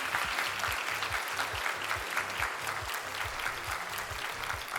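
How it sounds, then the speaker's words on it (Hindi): A crowd at an awards ceremony claps steadily and fairly loudly, a dense, continuous round of applause with no talking over it. "जोरदार तालियां हो जाएं"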